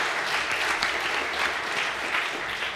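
A lecture audience applauds loudly, a dense continuous wash of clapping hands that holds steady throughout.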